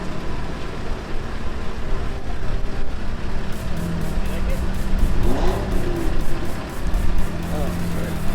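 Aspark Owl, a Japanese electric hypercar, accelerating hard, a rising whine and rush building over several seconds under loud road and wind noise, with people talking nearby.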